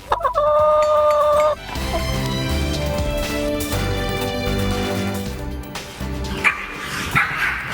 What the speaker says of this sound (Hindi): इनमें से एक मुर्गा तो तान भी छेड़ रहा है।